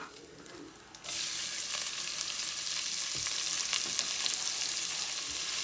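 Onion dropped into hot bacon fat, a sudden burst of loud, dense sizzling that starts after a quieter moment and holds steady and close, with a few faint utensil clicks.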